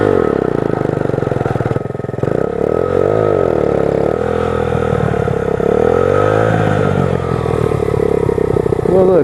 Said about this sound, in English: This is a third gear burnout.